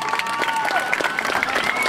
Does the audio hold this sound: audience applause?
yes